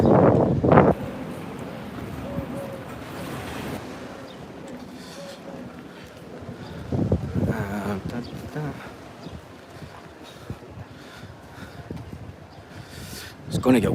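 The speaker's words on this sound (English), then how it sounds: "It's going to get windy along this bit." Strong wind buffets the microphone along a seafront in Torrevieja, with rumbling gusts that swell and fade irregularly, loudest at the start and around the middle, under faint background activity.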